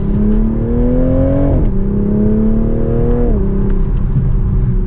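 A 2024 Toyota Supra 45th Anniversary Edition pulls hard in second gear in sport mode, its engine note climbing steadily in pitch, dipping briefly at a shift point, then rising again, loud and continuous from inside the cabin.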